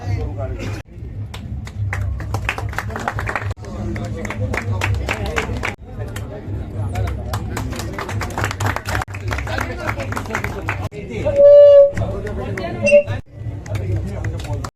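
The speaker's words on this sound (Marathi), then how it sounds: "उद्घाटन समारंभ पार पाडत आहे तरी सगळ्यांनी टाळ्या वाजवायच्या आहेत" Audience clapping at an inauguration ceremony in a housing society, a steady spread of hand claps mixed with crowd murmur and talk across the whole stretch.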